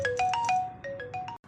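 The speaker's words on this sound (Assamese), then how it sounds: "মোৰ ফোন আহিছে ৰ'ব মই ফোনটো চাই লওঁ" A mobile phone ringtone plays a short bright electronic melody of repeated beeping notes, clear and close, cutting off abruptly near the end.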